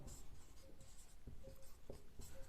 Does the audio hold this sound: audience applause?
no